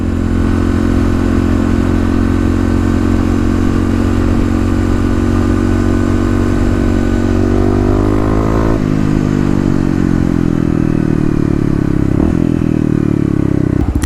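A Kawasaki KLX351 dual-sport motorcycle with Pro Taper bars, heard riding into a mall parking garage: a loud, steady single-cylinder engine drone close by, with a pitch shift partway through as the throttle changes.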